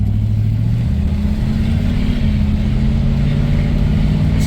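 A 1965 Cadillac with its 472 engine accelerates at half throttle, giving a loud, steady, deep engine drone with a rising pitch that carries through the whole stretch with no talk over it.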